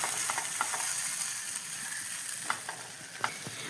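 Coconut thoran being stirred in a frying pan, with a steady soft sizzle and a few light scraping clicks of the spoon against the pan; close and moderately quiet, with no talking.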